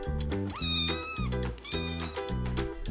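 Cat meowing in a toy store, several loud, close, drawn-out meows in quick succession, sounding like a toy cat with no voices over it.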